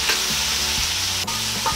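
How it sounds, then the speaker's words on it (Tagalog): Tomatoes being sautéed with softened onions in a hot pan, sizzling steadily up close while a utensil stirs them. "Tsaka natin igigisa itong ating kamatis."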